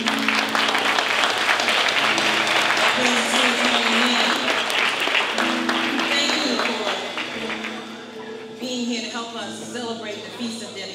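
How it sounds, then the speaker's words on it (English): An audience at a church Feast of Dedication applauds a choir, steady dense clapping that fades slightly toward the end as a voice and music begin to come through. "give her and the choir a round of applause"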